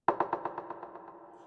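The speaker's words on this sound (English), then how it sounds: "It's a rim shot." A rim shot in an Afro house beat, its single crack followed by a rapid train of about ten echo repeats that shrink and blur into a fading tail.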